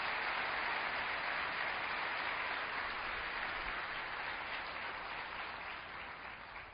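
A church congregation at Assembleia de Deus Vitória em Cristo applauds in a dense, sustained wash of many hands clapping together, holding steady before tapering slightly at the end, with no talking over it.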